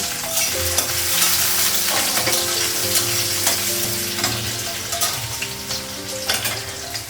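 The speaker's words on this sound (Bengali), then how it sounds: "আলুটা লাগাবো কাঁচা দিব একটু ভেজে দিব" Raw potatoes fry in a pan for a home-cooked vegetarian Bengali dish, giving a steady, close, loud sizzle with faint clinks of stirring throughout.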